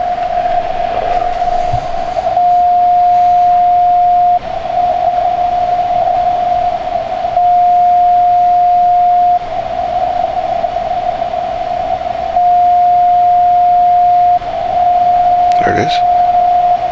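A moonbounce CW radio signal echoed back off the moon, a steady pure beeping tone keyed in long dashes over constant hiss and faint static, with a brief crackle near the end.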